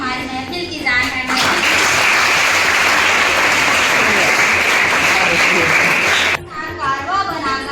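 An audience breaks into loud, sustained applause lasting about five seconds to welcome a guest at a Teacher's Day celebration, with someone speaking just before and after the clapping.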